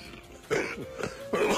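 A Filipino news anchor gives a few harsh, throaty coughs in close succession, fairly loud and close with no talk around them.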